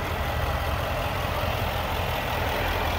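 A deep, steady supercharged V8 engine in a 2015 Range Rover Sport idles evenly with a low rumble and constant hum, no revving or changes over the whole stretch.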